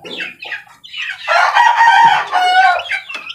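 A rooster crows loudly and up close in one long cock-a-doodle-doo, preceded by a few short clucks, with no talking.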